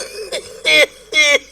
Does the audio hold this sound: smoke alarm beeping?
no